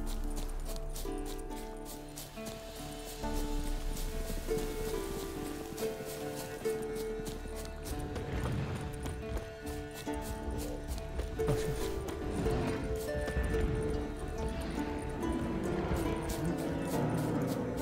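Horse hooves clip-clop in The Witcher 3 with a steady, rhythmic trot, moderately close, under game music, while someone talks in Spanish over them.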